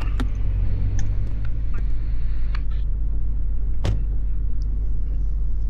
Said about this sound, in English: Here comes our great tow truck running code with his red and blue lights